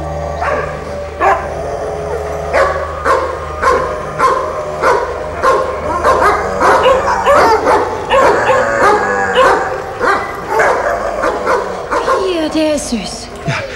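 A dog barks repeatedly in short yips and bow-wows with some whimpering, loud and close, mixed with a person talking over it.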